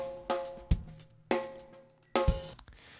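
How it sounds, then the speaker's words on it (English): A sparse drum pattern repeats alone: deep kick thuds paired with bright snare hits, evenly spaced, clean and upfront with short decays. "here is the place where we're loading in the drum loop that we've been using"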